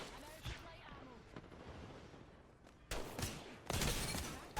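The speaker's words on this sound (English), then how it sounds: "Some good shots with the wingman" Wingman revolver shots in Apex Legends, a few sharp bangs at first, then louder, denser bursts of gunfire toward the end, heard close and over faint game ambience.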